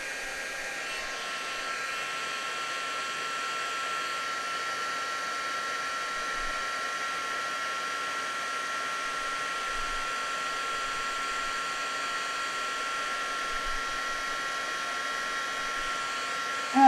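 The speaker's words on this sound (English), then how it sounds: "we'll just heat set this real quick" A heat tool blows in a steady, unbroken whir while it heat-sets white embossing powder on a dark blue card, and it stays level and fairly close throughout.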